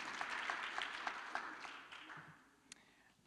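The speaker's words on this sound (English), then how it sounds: "Give yourselves a round of applause first off." Faint applause from students at a law students' awards dinner and gala, clapping in a hall that gradually fades out, with a last stray clap near the end.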